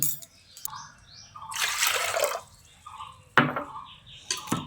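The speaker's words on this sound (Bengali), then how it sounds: "তারপর ওই 2 বাটি মতো জল দিয়ে দিচ্ছি।" Water poured from a bowl into a pressure cooker holding chana dal, two splashing bursts of pouring and trickling, close and moderately loud, with a few drips between them.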